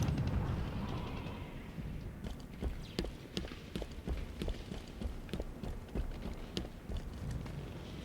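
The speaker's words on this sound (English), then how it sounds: "But that is one of the weirdest explosions I've seen in a long time." Rapid repeating explosions from the Halo Forge video game, a string of sharp cracking bursts over a rumbling bed, fairly distant and looping again and again.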